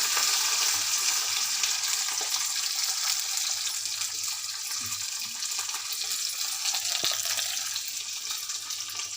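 Steady bright sizzle of chopped onions frying in a pan with curry leaves, continuous and fairly loud, with a few faint clinks of stirring along the way.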